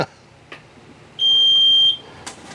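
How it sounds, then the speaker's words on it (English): A single sustained high-pitched electronic reverse warning beep from a Hoverfly T4 four-wheeled mobility scooter, lasting under a second, preceded and followed by brief clicks, in a quiet setting. "It beeps when you're going in reverse."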